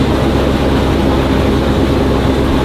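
Farm tractor engine revs hard while spreading slurry, a loud continuous low rumble with steady throbbing and no pauses, close by.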